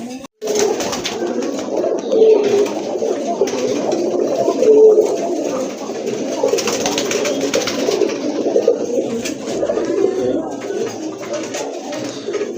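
A pair of Giribaz pigeons in a silver-coloured cage coo repeatedly, soft low throaty calls rolling on close by over a constant rustling background for the whole stretch.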